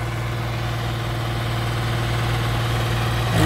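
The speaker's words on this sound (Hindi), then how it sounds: "अब दोनों ट्रैक्टर अपने ताकत का प्रदर्शन करेंगे।" Mahindra 265 DI and Massey Ferguson 35 tractors in a tug-of-war, their diesel engines holding a steady, close, low rumble with a deep throb that swells slightly at the end; no one speaks.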